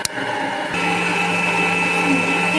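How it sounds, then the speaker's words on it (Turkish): After a quick knock, an electric mixer starts up and whirs steadily, beating cake batter with flour and sugar in a bowl, its motor hum constant and close. "Çırpmaya devam edeceğiz"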